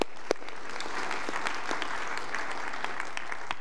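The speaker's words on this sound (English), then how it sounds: "Give the Lord a hand clap" A church congregation on Palm Sunday gives a round of hand clapping: many people clapping together in a steady, even patter that lasts a few seconds, with one or two sharper claps near the start.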